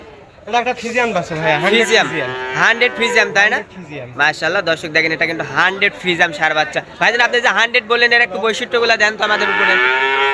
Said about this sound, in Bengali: এটা কি জাতের গরু ভাই